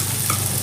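Two large onions frying with fennel seeds in a pan for restaurant-style butter chicken fry, a steady close sizzle with a low hum beneath, brief and fairly loud.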